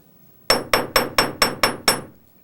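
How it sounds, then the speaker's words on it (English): Seven sharp, evenly spaced metallic taps from the flat end of a small chasing hammer lightly striking the end of a metal wire loop, ringing briefly after each blow. "I'm going to use my chasing hammer, the flat end of that, just to lightly hammer the end of the loop"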